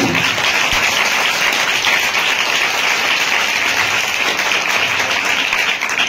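A church congregation at an Odia Christmas service claps together, a dense, loud, sustained burst of applause that runs unbroken throughout, with faint voices mixed underneath.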